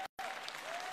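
Audience applause at a political convention, a dense steady wash of clapping from a crowd, briefly cut by a short gap of silence near the start before resuming at an even level.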